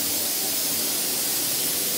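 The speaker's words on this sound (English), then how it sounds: "Loads of fun spraying these things." A spray gun paints a Land Rover body, putting out a steady, even hiss of atomised paint that runs unbroken and fairly close, with no voices.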